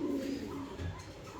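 Fancy pigeons coo softly in a pigeon farm, low murmuring calls repeating close by against a steady background hum.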